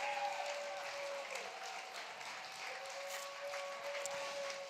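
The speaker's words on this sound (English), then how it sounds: "Give him a round of family applause" Audience applause at the Microsoft Excel World Championship finals, a steady spread of clapping held at moderate level throughout, with a faint tone running underneath.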